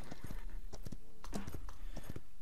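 Horse hooves clip-clopping in the video game Paladins, a steady rhythmic trot of distinct hoof strikes, fairly quiet and alone.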